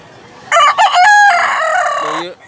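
Roosters crow loudly and close at a chicken market in Mantalungon, Cebu, one drawn-out cock-a-doodle-doo rising and falling over brief clucking, with lower fowl calls trailing at the end.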